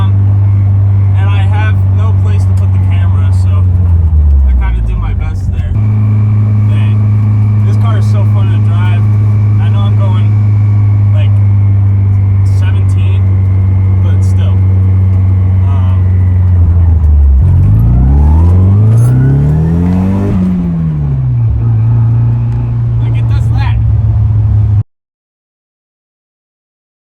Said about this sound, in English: so this car, really fun to drive. It's really loud in here, obviously.